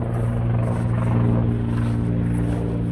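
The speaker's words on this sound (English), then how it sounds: "A helicopter's still buzzing around." A helicopter flies nearby over a paintball site in Newquay, its rotor throbbing in a loud, constant low drone with a steady buzzing hum that holds evenly throughout.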